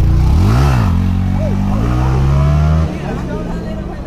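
A Yamaha R3 motorcycle engine revs loudly and close, rising and falling in pitch before settling into a steady drone that drops off near the end, with voices talking over it during a group valley ride.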